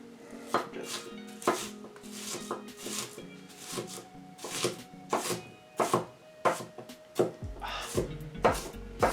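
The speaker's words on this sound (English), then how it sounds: "So I like to go through just the big end of the knife." A knife chops food on a board in close, irregular bursts of sharp knocks, some of them rapid, with faint clatter between the strokes.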